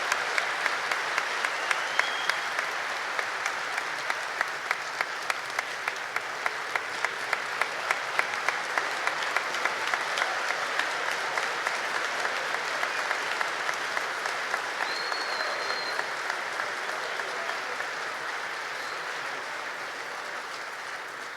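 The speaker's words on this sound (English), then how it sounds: "Please join us in a final round of applause for the 2024 recipients of the United States Naval Academy Alumni Distinguished Graduate Award." A large audience at the 2024 United States Naval Academy Alumni Distinguished Graduate Award ceremony gives a long, sustained round of applause, a dense and even wash of clapping that slowly tapers toward the end.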